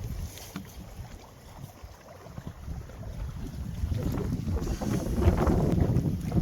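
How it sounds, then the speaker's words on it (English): Strong wind buffets a microphone on a small boat in the Marlborough Sounds, a rough rumbling gust noise that builds louder toward the end, with water sounds underneath. "Well, that wind is terrible."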